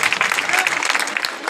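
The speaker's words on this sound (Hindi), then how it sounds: "बजाओ जोर से ताली।" Crowd applause at a BJP party office ground-breaking ceremony in Bundi, Rajasthan: dense, steady clapping from a gathered group, fairly loud and continuous throughout, with a few voices mixed in.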